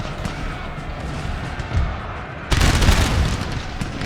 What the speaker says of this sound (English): What are the cannons doing?